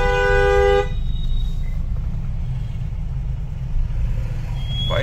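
Car horn honking in a full traffic jam on a bridge during Diwali shopping, one steady loud horn blast at the start, then continuous low engine rumble of stalled traffic with faint distant honks.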